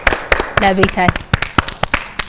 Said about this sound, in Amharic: አጨብጭቡላት ለቤተል